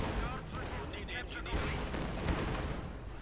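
Heavy mortar shelling in the real-time strategy game Company of Heroes 2, with repeated booming impacts and rumbling blasts packed densely over constant low battlefield noise.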